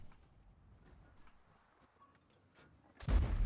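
A single heavy tank cannon blast booms suddenly near the end after a few seconds of quiet video game ambience, loud and close.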